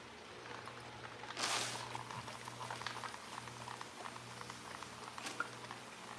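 Water running to rinse paint out of a stencil screen, a steady close rushing and pattering spray with a brief louder splash near the start and scattered drips, no voices.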